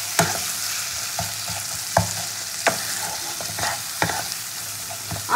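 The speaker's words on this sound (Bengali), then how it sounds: "একটু গরম জল দিয়ে আমি মশলাটাকে কষাবো, তলায় ধরার ভয় থাকবে না।" Masala of ginger-garlic paste being sautéed in a pan for bhola fish curry with a splash of hot water, a steady close sizzle broken by sharp scraping stirs every second or so.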